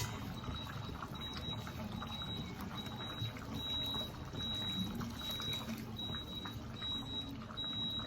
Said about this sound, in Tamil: இப்போ இதில் ஒரு ஸ்பூன் கடலை மாவை கரைச்சி நல்லா விட்டுறலாம்.